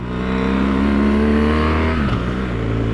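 A 2016 BMW R1200GS Adventure motorcycle engine revs steadily up close, a loud, continuous droning tone that holds for a couple of seconds, then dips briefly in pitch before settling back.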